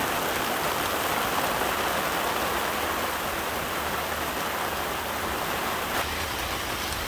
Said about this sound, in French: J'ai rarement vu une aussi grosse pluie à date au Bahamas.